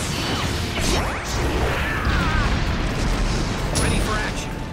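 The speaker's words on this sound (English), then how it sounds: "Fire style, Phoenix Fire Jutsu." A Phoenix Fire Jutsu attack in Naruto Shippuden Ultimate Ninja Storm 4 bursts with loud, dense roaring and crashing effects, whooshes and impacts layered over game music and battle voices, continuous and close throughout.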